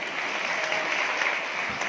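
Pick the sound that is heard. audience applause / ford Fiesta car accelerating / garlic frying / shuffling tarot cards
audience applause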